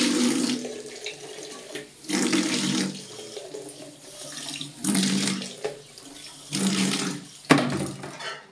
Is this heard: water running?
yes